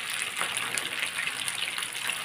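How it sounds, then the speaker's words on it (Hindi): Water poured into a pot to boil during village-style outdoor cooking, heard as a steady close gushing splash that runs alone without pause. "पानी डाल के उबालने के लिए रख।"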